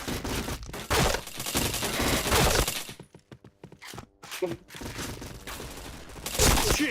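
Bursts of rapid gunfire ring out in the Point Blank shooting game, loud volleys at the start and again near the end with a quieter gap between, as players talk over the action.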